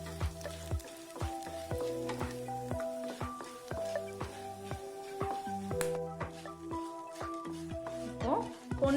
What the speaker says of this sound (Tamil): இப்போ இது எல்லாத்தையும் மீடியம் ஹீட்ல லேசா வறுத்து எடுத்துக்கணும்